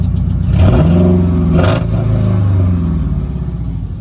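A Dodge Challenger SRT 392 V8 with a tapping motor is revved once, rising to a loud roar and falling back to a rough idle, close by.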